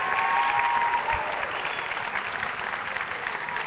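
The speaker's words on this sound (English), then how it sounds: "Huge round of applause." Audience applause after a coffee champion from Honolulu Coffee Roasting is announced at the 2011 US Barista Championship, steady dense clapping filling the room from start to end, tapering slightly toward the close.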